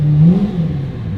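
A Lamborghini Murcielago LP640 with a manual gearbox, running rough and close to stalling, gives a brief low, uneven rev that wavers and sags, loud and close with no voices.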